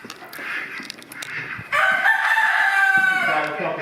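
Chickens cluck softly at a farm with rabbits, ponies and pigs, then a rooster bursts into a long, loud crow close by that rings out over the quieter clucking.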